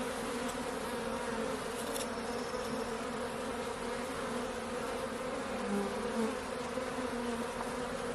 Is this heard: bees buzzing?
yes